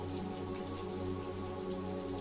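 Steady rain falls across a park, a dense even patter of drops on the ground and surfaces, close and continuous, with soft tonal music sustained underneath.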